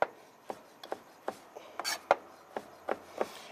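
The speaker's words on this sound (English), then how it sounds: "We're just going to julienne them." A knife chops fruit on a cutting board into big chunks, sharp close taps in an irregular rhythm, about ten strokes with faint background between.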